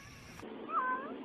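A cat meows once inside a moving car, a single drawn-out, rising-then-falling cry heard close and alone over steady road hum.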